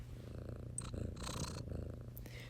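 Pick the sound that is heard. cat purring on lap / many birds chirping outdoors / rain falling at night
cat purring on lap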